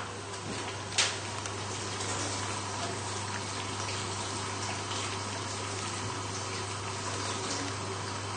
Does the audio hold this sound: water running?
yes